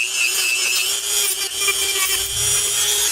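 A rotary sanding disc grinds against a 3D printed PLA part, giving a steady, loud abrasive rasp with a constant motor whine throughout, close up and without speech.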